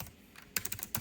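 Typing on a Keychron mechanical keyboard: soft clicks at first, then a fast burst of crisp, close keystrokes in quick succession over a quiet room.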